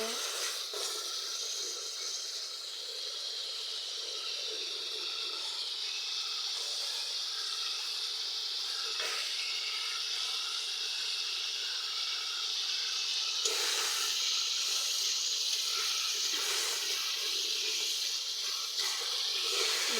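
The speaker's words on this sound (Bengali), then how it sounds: "সব মশলা আমার দেওয়া শেষ হয়েছে, এবার একটু কষিয়ে নেব।" Turmeric and chili powder being fried in a pan for a mud fish curry, a steady bright sizzle and hiss with occasional soft clatters from stirring, moderately quiet and continuous.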